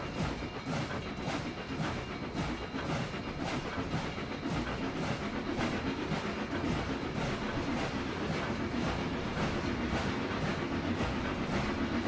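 A train rolling along the tracks in the video game Trainz 2022, a steady rumbling drone with rhythmic clickety-clack of wheels over rail joints, moderately faint and continuous throughout.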